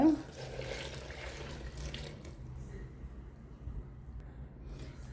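Water is poured into ground masala for a chicken coconut curry, a soft splashing pour lasting about two seconds before the sound drops to quiet room tone.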